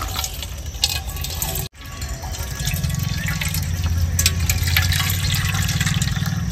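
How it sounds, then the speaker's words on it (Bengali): Hilsa fish being washed under running water in a village kitchen, a steady splashing tap stream after a brief pause, growing fuller and louder over several seconds. "এবার মাছটা ভালো করে ধুয়ে নেব"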